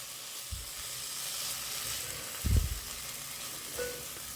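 Boiled egg bhurji sizzles softly in a hot pan while being gently mixed, a faint steady frying hiss with a couple of soft scrapes and a brief louder thump of the spoon against the pan.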